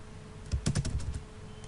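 A short flurry of computer keyboard key presses while working in AutoCAD, close and fairly quiet clicks tapping in a quick uneven rhythm.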